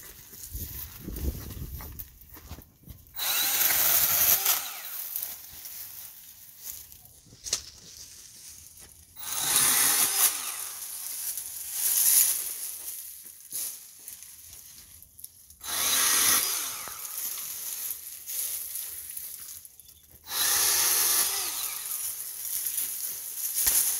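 A Milwaukee M12 Fuel Hatchet pruning saw cuts through plants in four loud motor bursts, each a few seconds long, separated by quieter pauses.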